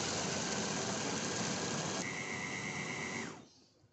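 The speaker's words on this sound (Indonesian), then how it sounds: "Tambahkan dengan sedikit air, kemudian kita chopper atau kita blender hingga halus." A kitchen blender grinds chili, shallots and garlic with a little water, a steady loud whirring drone that runs unbroken for about three seconds, then winds down and stops.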